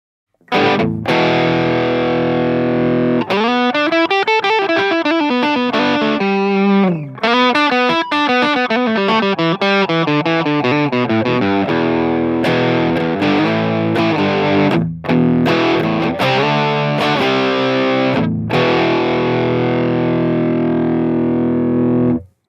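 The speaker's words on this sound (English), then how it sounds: "Now I'm going to switch on these dirt blocks." Loud electric guitar through distortion blocks with heavy distortion, strummed chords and sustained riffs ringing out continuously, with a few brief pauses between phrases.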